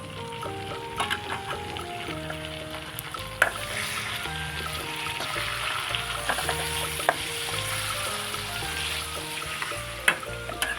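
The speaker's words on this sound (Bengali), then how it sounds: "কত জোরে জোরে আওয়াজ হচ্ছে ভাজায়।" Chicken biryani ingredients, onion, chicken and ginger, fry loudly in a pan, a steady broadband sizzle with stirring clatter, scrapes and a few sharp clinks over a continuous musical background.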